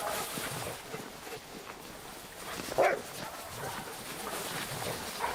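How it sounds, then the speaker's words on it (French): A pack of about forty sled dogs in extreme cold, barking and yipping in a faint, steady background chorus with one louder bark near the middle, while a person speaks softly. "La meute se compose actuellement d'une 40aine de chiens"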